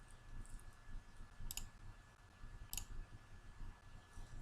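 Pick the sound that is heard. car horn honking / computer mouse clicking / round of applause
computer mouse clicking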